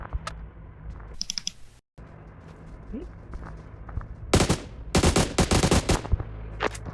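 Gunfire in the mobile game PUBG Mobile, with scattered clicks and taps early on, then loud rapid bursts of automatic fire in the last few seconds.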